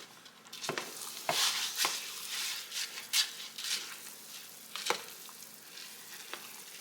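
Rice being stirred into smoked chicken and vegetables in a pan: soft scraping and stirring strokes over a low sizzle, with a few sharper clicks of the utensil against the pan, close and fairly quiet.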